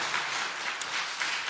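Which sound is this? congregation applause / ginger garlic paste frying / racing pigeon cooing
congregation applause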